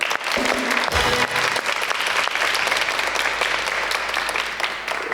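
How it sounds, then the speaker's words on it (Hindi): A studio audience at a talk show claps loudly and steadily, a thick continuous burst of applause that holds for several seconds. "मैं अपनी ऑडियंस को रिक्वेस्ट करूंगा, जोर से तालियां बजाएं।"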